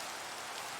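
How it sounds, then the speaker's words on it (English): Rain falls steadily in a modded Minecraft survival world, a dense, even hiss with no breaks, heard alone. "of course it's raining, so no one's going to work in the rain"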